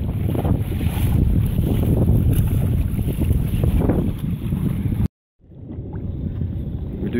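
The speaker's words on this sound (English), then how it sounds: "Very choppy, current is pushing against us just a wee bit, and the wind is insane." Strong wind roars across the microphone over choppy water while kayaking off Pulau Ubin, a constant heavy rumble that cuts out briefly near the end before resuming.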